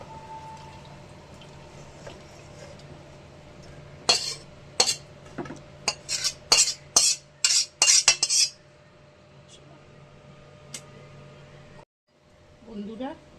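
Metal utensils scrape and clink against a cooking pot and serving dish as cooked curry is transferred, a rapid cluster of sharp clatters after a quiet stretch, with a voice talking briefly near the end.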